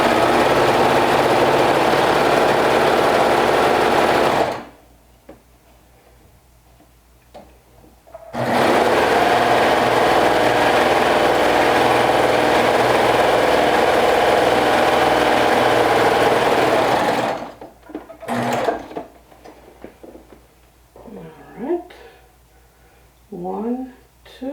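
A sewing machine topstitching the seams of a rainbow dress runs in two long, steady, loud bursts of rapid whirring stitching, separated by a pause, then stops as a person talks nearby.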